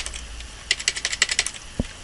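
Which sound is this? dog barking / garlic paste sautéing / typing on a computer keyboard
typing on a computer keyboard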